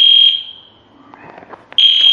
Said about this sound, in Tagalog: but this alarm, man, so loud